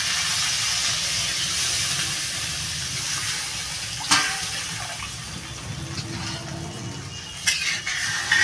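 Water poured into a simmering fish and potato curry with green tomato gives a steady broad hiss and rush of steam, with a couple of sharper splashes and clinks near the end, close and without talk.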